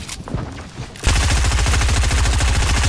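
Fortnite gunfire bursts in after a second of quieter game noise, a loud, rapid, sustained stream of shots with a tight machine-gun rhythm that runs to the end.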